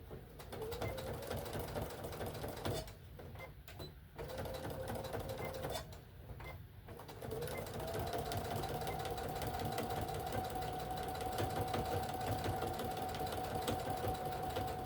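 A sewing machine stitches in steady, rapid bursts, pausing briefly a couple of times before running continuously at a quick, even pace.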